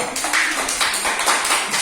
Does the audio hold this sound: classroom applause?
yes